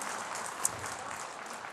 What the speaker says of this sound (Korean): 박수 그만 쳐